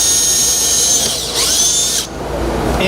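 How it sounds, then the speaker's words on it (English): A 1/2-inch power drill whines at high speed while boring a hole in the top of a catch can for a 2017 Kia Sorento, close and loud, pitch shifting as it bites, then cutting off. "and we're going to drill that"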